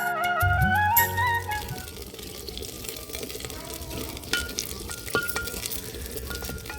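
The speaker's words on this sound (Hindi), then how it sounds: "उसके बाद जो ये प्याज कटा हुआ रखा था इसको डाल देंगे और उसके बाद इसको पकाना है" Chopped onion goes into hot mustard oil in a clay pot with cumin and asafoetida, setting off a sharp burst of sizzling that settles into steady frying crackle, broken by stirring clatter, with speech faint at times.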